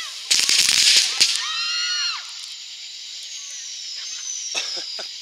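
Firework bursting close by during July 4th festivities: a cluster of loud crackling bangs, then a whistling, screaming shriek that sweeps and fades over a few seconds, with startled voices and crowd noise around.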